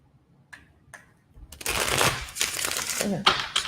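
Tarot cards are tapped twice, then shuffled in a steady riffling flutter with a couple of sharper snaps at the end, close up. No talking is heard.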